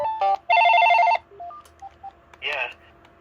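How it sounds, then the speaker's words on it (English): A thrift-store cell phone plays its built-in melodic ringtone number 7, a bright, loud, close run of quick electronic beeps in a repeating pattern, followed by a few scattered tones and a short buzzy burst. "The tone number 7 on that is just one of my favorite ringtones of all time."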